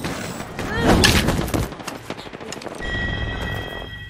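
Video game gunfire crackles through rapid shots and thuds, mixed with game sound effects and callouts.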